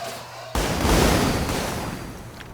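A fireworks show in the video game Planet Coaster 2, where a sudden sharp boom starts a dense, roaring crackle of overlapping bursts that fades slowly over two seconds, with no talking.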